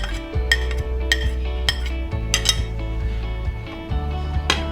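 A spoon stirs chopped vegetables, including capsicum, in a bowl, giving repeated close metallic clinks and scrapes against the bowl at an irregular rhythm, with no talking.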